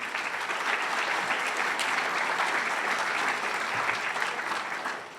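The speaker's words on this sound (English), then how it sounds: "you should give yourself all a round of applause" A crowd at the Portland State University convocation applauds during the president's address, a steady, even burst of many hands clapping that fades slightly at the end, with no talking.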